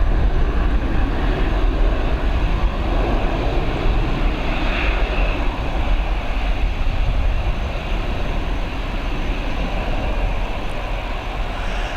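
A steady, loud roar of jet engines from an aircraft departing runway 10R at Dublin Airport, a broad rumbling wash that holds nearly constant throughout, heard alone without voices.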